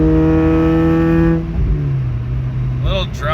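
A Pontiac Vibe GT engine and exhaust hold a loud, droning rev with strong steady tones, then drop to a lower idle hum as a sliding pitch glides down; close and dominant, with no talk.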